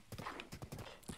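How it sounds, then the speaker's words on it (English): Horse hooves clip-clop in a quick, even rhythm in the video game Zelda Breath of the Wild, quiet and close, with no talk over them. "That is a nice looking horse."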